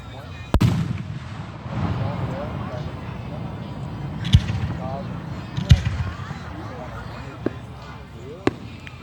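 Fourth of July fireworks burst outdoors, with a few sharp booms and cracks spaced irregularly over a steady background hiss, while people chat nearby.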